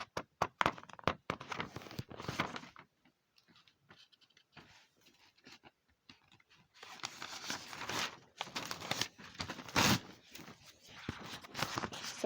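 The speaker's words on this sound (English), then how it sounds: "Sorry if this paper loud as hell" Sheets of paper crumpled and shuffled loudly near the microphone in bursts of crackling and rustling, separated by a quieter stretch in the middle. No one speaks.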